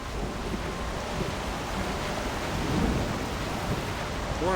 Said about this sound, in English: Hey, Bank, it's thundering and raining in my game.